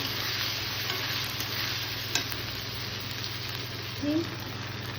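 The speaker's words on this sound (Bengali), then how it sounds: "এই সব একসঙ্গে নেড়ে ছেড়ে ভালো করে ভাজবো" Mixed ingredients, including chopped coriander leaves, sizzle steadily in a frying pan while being stirred, with a continuous hiss and a few scraping strokes.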